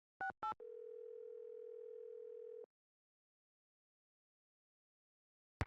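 In the Nancy Drew game Secret of the Scarlet Hand, a car phone gives two quick electronic beeps and then a steady dial tone lasting about two seconds, followed by silence and a brief click at the end.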